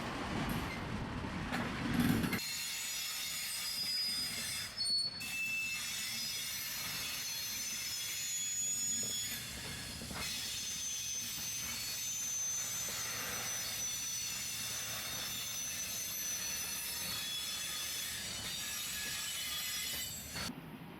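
A freight train of rail tankers carrying sugar syrup rolls past a factory in Stockholm, Sweden, a steady rumbling roar with a faint high wheel squeal that holds evenly for about twenty seconds, with no voices.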